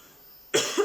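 A woman gives a single sharp cough, close and loud, after a brief quiet pause.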